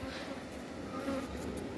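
Honeybees buzz steadily around an open hive during a beekeeper's brood check, a continuous close insect drone with no speech over it.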